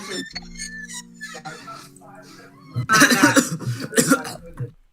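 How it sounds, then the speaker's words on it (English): Several harsh, loud coughs in a rapid burst close to the listener, following quieter vocal sounds and a low hum. "then he starts coughing, like, afterwards."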